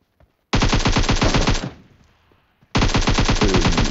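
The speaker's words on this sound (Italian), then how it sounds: "io sparo colpi a caso" Automatic rifle fire in a PUBG Mobile match: a loud, close burst of rapid shots for about a second, a short pause, then another sustained burst.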